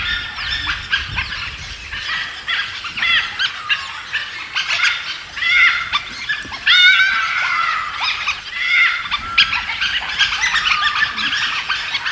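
A pack of wild dogs in the Nilgiri forest clashes with a larger rival pack, producing a dense tangle of high yelps, whistles and chattering squeals that rise and fall continuously over several seconds.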